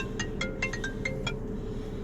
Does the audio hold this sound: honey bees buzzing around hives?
no